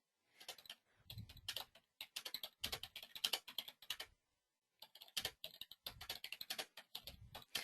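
Rapid keystrokes on a computer keyboard come in close, fairly quiet bursts, with two short pauses between runs of typing.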